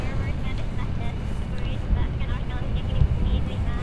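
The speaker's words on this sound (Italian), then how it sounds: "Motore al massimo e via" A spacecraft engine at full throttle in Kerbal Space Program, bound for Minmus, gives a steady, dense low roar that rumbles on without a break, with small surges near the end.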